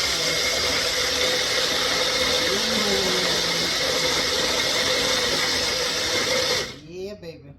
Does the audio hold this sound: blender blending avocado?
yes